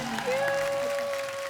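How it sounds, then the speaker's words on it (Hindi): Studio audience applause on a comedy talk show, a brief, even patter of clapping from a crowd under a sustained musical tone. "एक बार रणधीर जी और करिश्मा के लिए जोरदार तालियां।"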